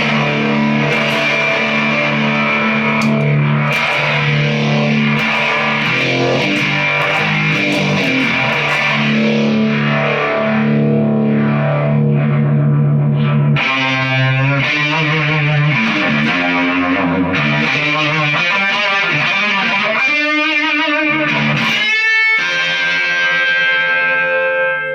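An MXR Phase 45 phaser guitar pedal, built as a beginner's project, colors a sustained electric guitar with a loud, continuous sweeping swirl that rises and falls in slow waves, with no talking throughout.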